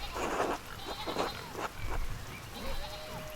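Sheep in the medieval video game Pentiment bleat several times, their short wavering calls standing out over a soft ambient background without speech.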